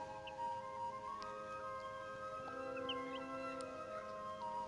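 A young chick gives a few faint, thin peeping calls scattered over a steady indoor hum, with a tonal whistle-like call in the background.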